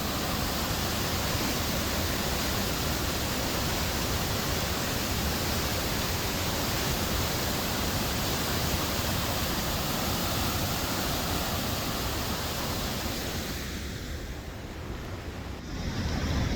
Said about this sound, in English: That's a whole lot of waterfall for not a little bit of hike.